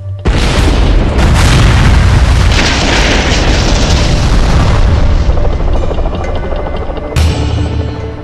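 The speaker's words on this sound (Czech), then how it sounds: "potom 2 mohutné výbuchy" Two massive explosions in a televised reconstruction of the Munich Olympics massacre at the airfield, a loud sustained roaring blast filling most of the clip and a second sharp boom near the end, no talk.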